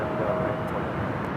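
A CRJ regional jet rolls down a runway at LAX, a steady broadband engine roar at a distance, fairly faint and continuous, with a voice talking over it.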